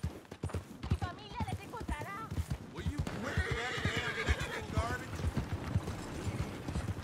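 A horse in Red Dead Redemption 2, its hooves clip-clopping in a steady walking rhythm, with a neigh or whinny partway through, heard close over a muffled background.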